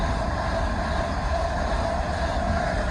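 A train rolls through Ealing Broadway station on the Great Western Main Line, a steady, unbroken rumble and rail hiss holding level for the whole stretch, with no voices.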